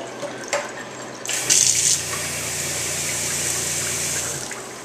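Water running from a sink faucet in a 2016 BBQ Porch concession trailer, supplied from the holding tank: a steady, hissing stream close by that surges louder after a short start and then flows on evenly.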